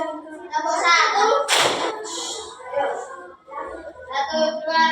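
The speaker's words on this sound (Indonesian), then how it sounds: "diawali dengan tepuk satu" Children clap hands together in the Indonesian tepuk satu clapping game, one sharp clap standing out among chanting children's voices, with talking throughout.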